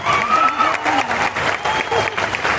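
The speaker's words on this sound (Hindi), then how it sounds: "ताली बजा के इस बच्चे का उत्साह बढ़ाओ।" A crowd at a religious gathering claps to cheer on a young boy, with dense steady applause mixed with voices and some shouting over it.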